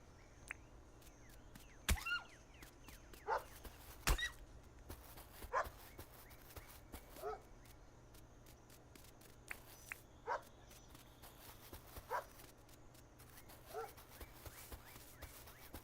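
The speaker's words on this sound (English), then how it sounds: "We got wild dogs all over the place." Wild dogs in the farming video game Dinkum bark repeatedly, about seven or eight sharp separate barks spread at irregular intervals over a quiet, steady background.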